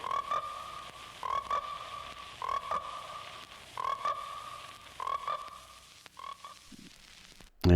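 Frogs croak in repeated bursts of rattling, buzzy calls, several pulses in a row with short pauses between, moderately close and without talk.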